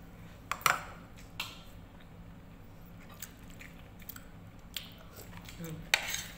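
Crisp crunching bites of raw vegetables such as cauliflower, broccoli and bell pepper, a few sharp crunches spaced apart over soft chewing, close to the mic with faint background noise.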